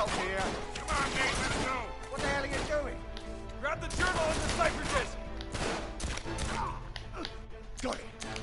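Gunfire in Uncharted 3, with a string of sharp shots and impacts scattered through a busy mix of music and game effects, moderately loud, while a voice talks over part of it.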